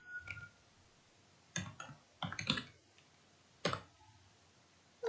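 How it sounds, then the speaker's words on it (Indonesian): Scattered bursts of computer keyboard key clicks, a few quick taps in each cluster separated by quiet pauses, faint and close. "Kita ketikkan localhost"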